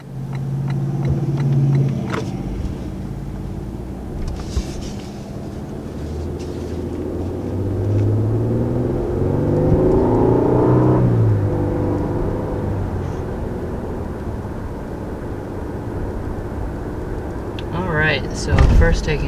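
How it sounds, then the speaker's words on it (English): A 2019 Lexus LS 500 F-Sport pulls away and accelerates, its engine note rising and falling in a steady drone heard from inside the cabin, ending with a brief clatter near the close. "So let's go ahead and take this LS 500 on a quick test drive."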